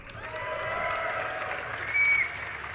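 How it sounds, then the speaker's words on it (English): A crowd at a League of Legends esports tournament cheers and applauds, a broad swell of clapping and shouting that builds and holds, with a louder burst of whoops near the end. "can we get a cheer for the League of Legends tournament?"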